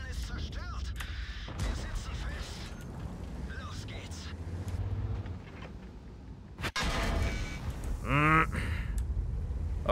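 Tank taking repeated hits in World of Tanks, with a sharp, heavy impact crack and a loud burst of shell fire landing over ongoing game noise and a speaking voice.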